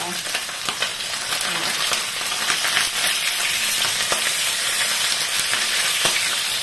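Fish frying in a pan gives a steady, close hiss and sizzle with occasional crackles and pops throughout, and no talk over it.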